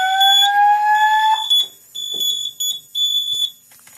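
A Simplex 4008 voice evacuation fire alarm system re-alarms with a loud, piercing electronic tone that rises and then breaks into repeated high pulsing beeps, close and alone with no talk.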